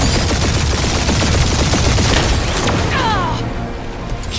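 Dense, continuous gunfire barrage in the video game Guardians of the Galaxy, loud and sustained across the whole stretch, with rapid overlapping shots and booms that ease slightly toward the end.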